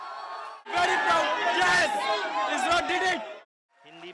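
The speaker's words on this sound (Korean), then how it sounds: "14억 인구 최대국 인도에선 환호가 터져 나왔습니다" A large crowd in India erupts in loud cheering and shouting at the Chandrayaan-3 moon landing, a dense roar of voices that swells and then cuts off abruptly.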